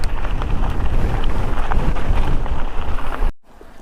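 Loud, blustery wind roars against the microphone on a hilltop bridleway, a continuous rumbling buffet that drops away suddenly near the end.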